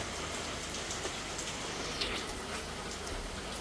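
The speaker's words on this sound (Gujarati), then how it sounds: "ઝરમર વરસાદ હવે ચાલે છે." Light drizzle at a hill station, a soft, even hiss of fine rain falling steadily and faintly, with no voices.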